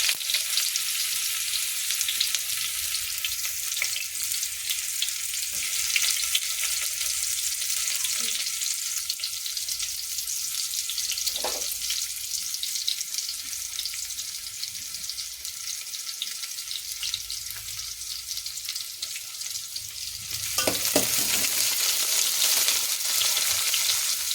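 Basmati rice masala mixture frying and being stirred in a pan, a steady close hiss of sizzling with occasional scrapes and clinks, continuous with no talking and a brief louder swell near the end.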